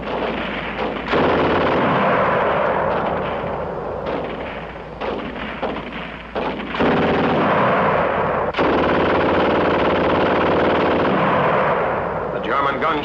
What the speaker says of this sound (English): The German gun used to shoot fast.